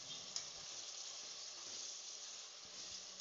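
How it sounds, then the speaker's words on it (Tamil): Tomatoes, ginger and garlic sautéing in a pan for chicken biryani give a faint, steady hissing sizzle with a few soft stirring knocks, heard alone and close. "எல்லாத்தையும் சேர்த்து கொஞ்ச நேரம் வதக்கிக்கோங்க"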